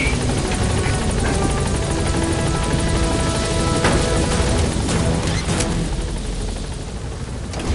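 Pequod helicopter hovering at a landing zone in Metal Gear Solid 5, a loud, close, continuous rotor roar with dense buzzing that eases off slightly near the end.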